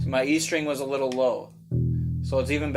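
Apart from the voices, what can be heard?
No everyday noises stand out.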